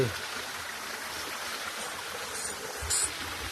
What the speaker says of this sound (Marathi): झरे डोंगरातलं पाणी येते